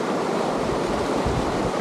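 Snow melt water rushes through a Nevada wash in a steady, broadband roar, close and constant with no pauses.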